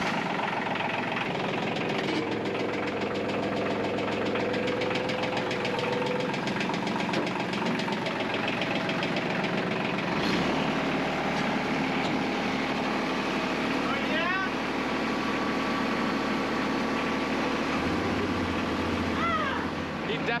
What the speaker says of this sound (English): we're firing up my tractor